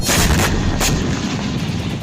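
Rocket fire and explosions in Galilee as Hezbollah launches a barrage of rockets: a loud, dense, continuous roar with sharp booming blasts at the start.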